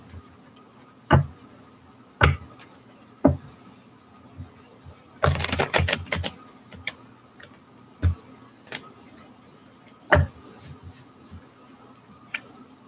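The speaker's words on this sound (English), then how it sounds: "Let's just do one more shuffle." Sharp, scattered taps of tarot cards being handled, then a dense flurry of riffling around the middle, followed by a few more isolated card snaps in a quiet room.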